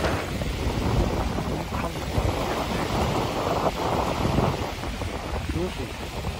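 Small waves wash onto Kaihin Makuhari beach in Chiba, a continuous surging rush mixed with strong wind buffeting the microphone.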